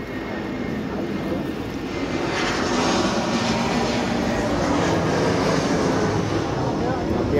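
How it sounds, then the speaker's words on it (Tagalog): A large airplane passes overhead on a hot day near a cemetery, its loud, broad engine roar swelling and then holding steady. "Ang laki ng airplane."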